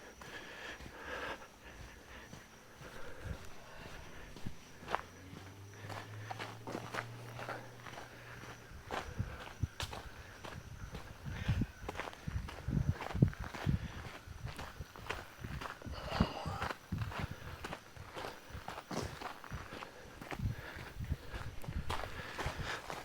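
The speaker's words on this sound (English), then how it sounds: "our footsteps because we're on gravel" Footsteps crunch steadily on a gravel hiking trail at Hanging Rock State Park, a close, continuous run of scuffing steps with a low passing vehicle hum partway through and faint outdoor ambience.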